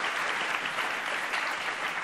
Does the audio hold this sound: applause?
yes